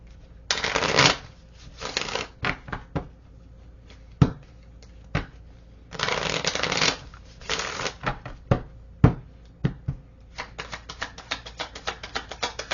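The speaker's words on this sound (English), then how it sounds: "these cards fell out the box, so I'm going to clarify, see what else comes out" Oracle cards being shuffled by hand in bursts of riffling and flapping, with scattered taps and card snaps in between, close and fairly loud, no talking.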